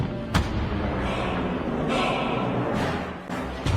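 Battle din of WWII Hellcat tank destroyers firing on Panzer IV tanks: a sharp, loud blast cracks out early, then a dense, roaring wash of gunfire and explosions rumbles on continuously, with no voices.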